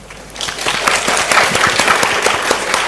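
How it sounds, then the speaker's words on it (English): Conference audience applauding panelists and a moderator at an economics session, clapping that swells in over the first half second and then holds as a dense, even ovation. "Please welcome our panelist and moderator"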